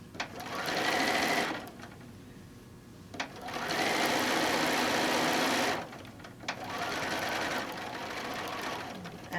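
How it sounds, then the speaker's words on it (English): A sewing machine stitches a short back stitch and a quarter-inch seam on a quilt-as-you-go mat, running in three sustained whirring bursts separated by short pauses, close and steady. "we're going to do just a little back stitch. And we're going to do our 1/4-inch."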